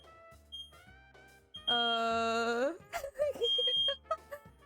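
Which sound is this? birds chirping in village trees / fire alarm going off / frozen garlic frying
fire alarm going off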